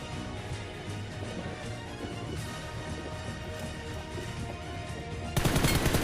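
Gunfire in the mobile battle royale game BGMI: a dense game soundscape of steps and effects that breaks into a loud, rapid automatic burst near the end.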